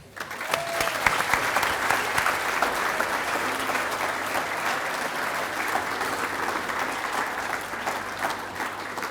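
Steady, full applause from an audience at a hockey club awards event honouring the club person of the year, dense clapping holding evenly for several seconds.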